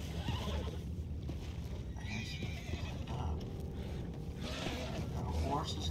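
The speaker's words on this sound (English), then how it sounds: "Got the horses in here all upset." Horses neigh and whinny in Red Dead Redemption 2, with agitated calls and hoof clatter over a dense, continuous background rumble, with speech audible at times.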